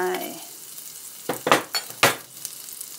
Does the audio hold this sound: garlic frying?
yes